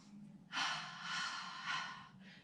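A long, breathy exhale during a Pilates exercise, close and steady, swelling in two or three pulses over a couple of seconds with no talk.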